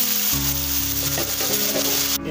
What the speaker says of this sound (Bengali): দিয়ে এবার ভালো করে নাড়ুন, কষান ভালো করে, খুব ভালো করে কষাতে হবে।